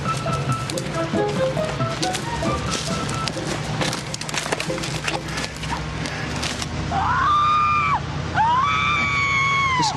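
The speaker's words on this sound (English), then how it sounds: "Listen to those screams." Recorded screams are played back through loudspeakers at a supposedly haunted house, where a truck convoy has turned up. Clattering, knocking noises come first, then several drawn-out, wavering shrieks ring out loud over a rumbling background.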